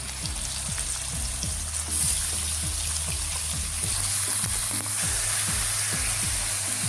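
Chicken goes into a hot pan with fried garlic for a dry chicken curry, a steady loud sizzle like rain with a low repeating hum underneath, no voices.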